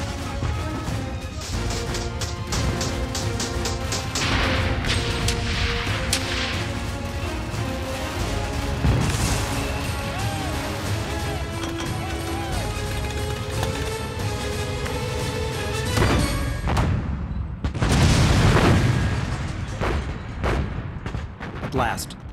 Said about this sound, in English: Shells and machine gun bullets rip into the Japanese as the charging Marines reach the crest.